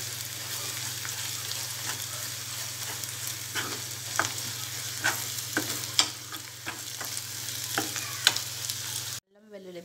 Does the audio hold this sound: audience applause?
no